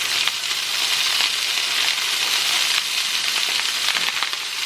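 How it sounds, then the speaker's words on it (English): Mixed vegetables fry for homemade hibachi-style fried rice, giving a continuous dense sizzle with faint stirring crackles, close and steady. "Now the next thing I'm going to do is add my mixed vegetables."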